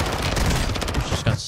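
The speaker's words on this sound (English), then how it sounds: "I was getting beamed by like an RPK or something" Rapid automatic gunfire from an RPK light machine gun in the video game Warzone 2, a loud, dense burst of shots lasting just over a second.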